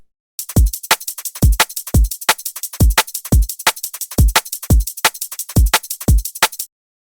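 A second liquid drum and bass shuffle loop from the Reverie sample pack, with punchy kicks and snares and a skipping, syncopated run of ghost hits and hats, played loud and clean for roughly two bars without talking.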